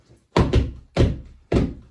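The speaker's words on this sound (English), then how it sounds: "You're going to stamp your feet." Feet stamp the Tresillo rhythm, three heavy, close thuds in a quick uneven long-long-short pattern on a hard floor, each stamp with a brief doubled impact.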